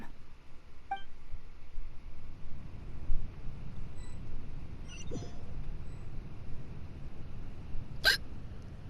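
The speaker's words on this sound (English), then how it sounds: "Oh, great, I got hiccups" A few sharp, isolated hiccups in a Genshin Impact-style story game, spaced seconds apart over a quiet, low background hum, with one clearer hiccup near the end.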